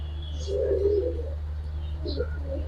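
Young female Giribaz pigeons coo in short, low, throaty bursts close by, one longer warble followed by softer fragments, over a steady low electrical hum with faint distant chirps.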